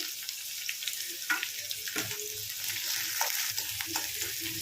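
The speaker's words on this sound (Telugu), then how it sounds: "ఇప్పుడు కట్ చేసిన ఉల్లిపాయ ముక్కలు వేసుకుందాము" Chopped onions frying with chana dal in oil for a ridge gourd milk curry, a bright continuous sizzle with occasional stirring scrapes, close and moderately loud.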